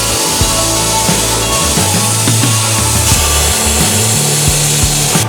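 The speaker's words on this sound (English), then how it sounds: "we're gonna cut the heads off those bolts" A power tool cuts through the heads of bolts on the frame mounts of an AMC Jeep Grand Wagoneer, giving a loud, continuous grinding, sawing drone with uneven pitch shifts throughout.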